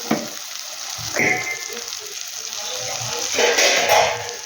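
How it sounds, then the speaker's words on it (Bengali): Chicken dropped into hot oil with chilli and spices for chicken kasha, bursts of loud sizzling and spattering with scraping stirs between them, close and continuous. "এবার আমি চিকেনটা দিয়ে দেবো"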